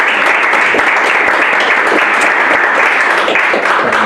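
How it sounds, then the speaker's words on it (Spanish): Audience applause for the speakers closing a panel session at an academic congress, loud dense clapping from a full room sustained evenly throughout. "les pido un aplauso otra vez para"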